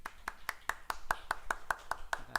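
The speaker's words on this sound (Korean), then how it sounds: "환영한 박수 한번 합시다" Sharp claps sound in a fast, even rhythm, about five per second, as a church congregation gives a round of welcoming applause, fairly close and without talking.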